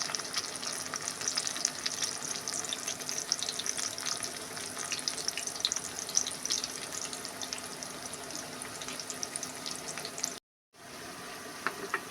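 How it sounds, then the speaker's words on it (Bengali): Moringa leaf fritters fry in hot oil in a wok, giving a steady, close hiss of bubbling oil. The sound breaks off briefly near the end, then resumes. "কড়াইয়ে তেল গরম করতে দেওয়া হলো। এখন বড়া ভেজে নেওয়া হবে।"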